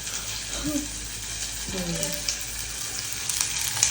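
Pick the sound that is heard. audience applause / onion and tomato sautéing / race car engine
onion and tomato sautéing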